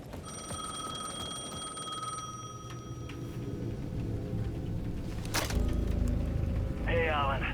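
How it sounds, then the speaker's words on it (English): A payphone rings at the edge of a plaza in the video game Alan Wake II, a steady electronic ringing tone repeating in the first few seconds over dark ambient game noise, followed by a brief burst and a low rumbling bed. "The payphone at the edge of the plaza was ringing again."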